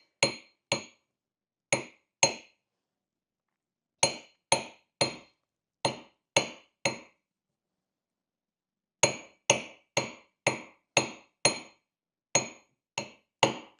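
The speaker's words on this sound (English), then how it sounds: "we have successfully hammered nice big facets all the way around the ring" A hammer strikes a silver ring on a steel mandrel in separate sharp metallic clinks, in small bursts of two to six blows with pauses between, close and loud, with no speech.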